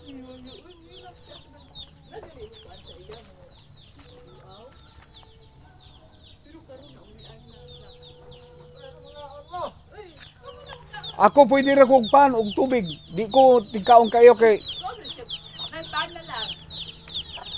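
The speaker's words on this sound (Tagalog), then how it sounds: "mga manok nila oh" A person talks quietly, then chickens break into loud, close clucking and squawking in a couple of bursts near the end.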